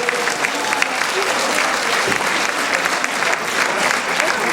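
Loud, sustained applause from an audience at a tribute concert greets a performer, dense clapping filling the whole stretch at an even level.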